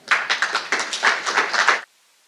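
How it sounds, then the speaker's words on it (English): A symposium audience claps in a short burst, a dense patter of hand claps rising and falling for under two seconds before stopping abruptly into quiet. "So I'm going to ask you to give yourselves a round of applause because you genuinely deserve it."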